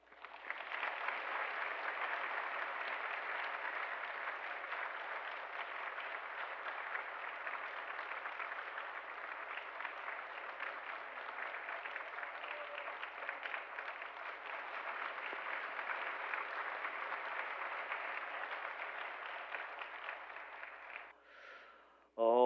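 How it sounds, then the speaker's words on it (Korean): Church congregation applauding during a Sunday worship service, sustained steady clapping from a crowd lasting about twenty seconds at moderate distance, fading out near the end before a brief sharp sound. "이 시간 격려의 박수 부탁드리겠습니다"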